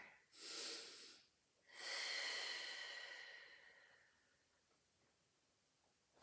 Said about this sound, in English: Go ahead and take a couple deep breaths here.